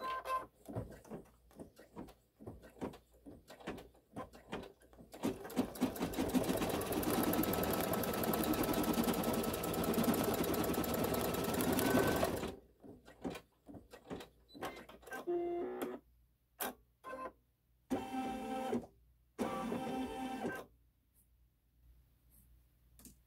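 An embroidery-style sewing machine stitches the face tack-down on a SweetPea Santa quilt block, running in a long steady whir for several seconds, then working in short stop-start bursts with clicks and pauses between them.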